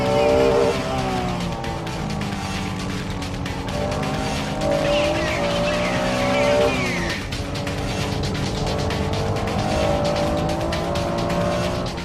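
Race cars accelerating out of a hairpin corner, among them an NSX-R, a four-wheel-drive GTO and a Porsche 911 Carrera RSR: loud, continuous engines rising and shifting pitch, with tire squeal, mixed with talk.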